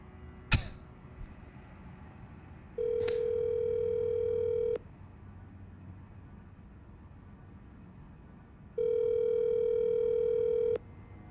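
Dial-tone style calling beeps from a phone call placed during a game stream, two long steady tones each about two seconds, separated by a quiet gap, after a brief cough-like click at the start; no talking.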